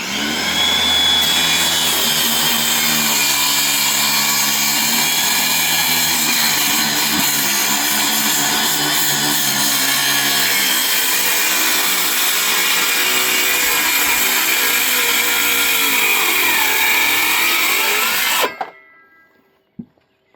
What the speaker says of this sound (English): You just throw your saw in there, and boom, now you got a guide.